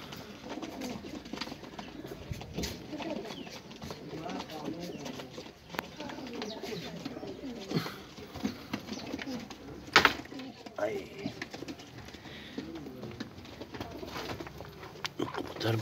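Soft cooing from golden pigeons repeats amid a busy outdoor background, with a voice talking over it and occasional sharper bird calls.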